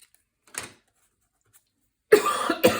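A short, faint cough sounds early, followed after a pause by two louder, harsh coughs close by.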